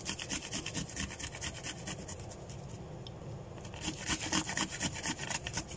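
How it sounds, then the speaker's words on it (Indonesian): Garlic cloves grated by hand on a grater for beef meatballs, a close, steady back-and-forth rasping scrape in quick repeated strokes with a brief pause midway. "Jadi bunda parut bawang putihnya."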